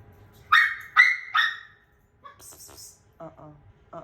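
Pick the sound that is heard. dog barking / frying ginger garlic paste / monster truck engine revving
dog barking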